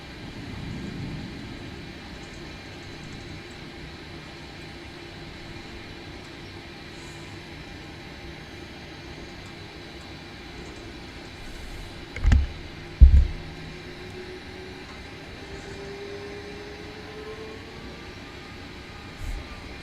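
A Boeing 737-800 taxiing in Microsoft Flight Simulator 2020 gives a low, steady engine rumble with faint hum, broken by a couple of short thumps near the end.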